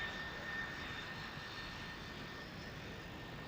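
An aircraft with Pratt & Whitney F117 jet engines and big reverse thrust, at the RIAT 2000 air show at RAF Cottesmore, gives a faint, steady, distant jet roar that holds without a break.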